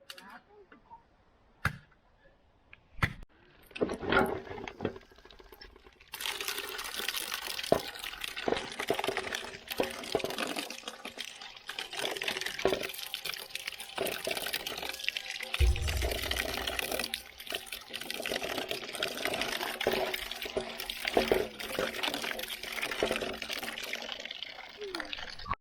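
Water runs and splashes while coconut pieces are rinsed outdoors for Jamaican coconut drops. Sparse clicks and knocks come first, then a steady rush of water continues close by for the rest.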